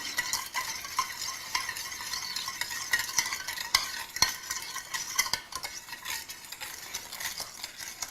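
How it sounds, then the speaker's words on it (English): A pork fillet marinade with a little sugar stirred thoroughly in a bowl, a steady close scraping and clinking of utensil against the bowl for several seconds with no talk. "You just thoroughly mix this marinade."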